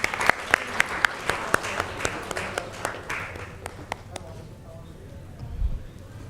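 An audience at an awards event and open-mic poetry night applauds a guest with a run of sharp, fairly close claps that thin out and fade after a few seconds, with a voice heard faintly underneath.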